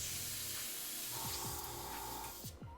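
An airbrush sprays yellow paint onto miniature armor, making a steady close hiss that runs almost the whole time. It cuts off near the end. Faint clicks can be heard underneath.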